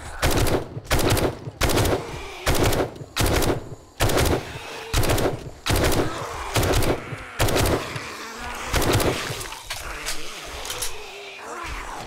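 Gunfire at a boss in 7 Days to Die comes as repeated loud bursts of automatic fire, about a dozen sharp volleys in an uneven rhythm with brief pauses between them.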